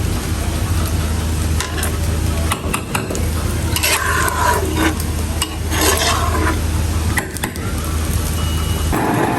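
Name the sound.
khichuri being stirred in a pot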